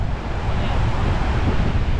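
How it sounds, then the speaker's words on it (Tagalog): Strong wind roars steadily across the microphone, a loud, broadband rush with no break over two seconds. "Wow, lakas ng hangin."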